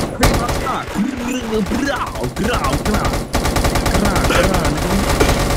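Rapid bursts of video game gunfire crackle almost continuously during a Da Hood gang takeover, loud and close, with excited shouting voices over the shots.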